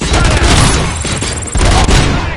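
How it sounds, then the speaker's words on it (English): Rapid bursts of gunfire from the RoboCop: Rogue City video game, loud and dense throughout with booming impacts layered over the shooting. "Am I hearing gunshots?"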